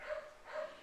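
A dog gives two short barks or yips, evenly spaced and fairly faint, with nothing else competing.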